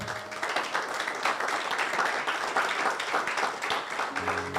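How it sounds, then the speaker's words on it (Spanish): Congregation at an evangelical church service applauding, a moderately quiet, steady patter of many hands clapping, with faint tonal sound near the end. "Dele un aplauso al Señor"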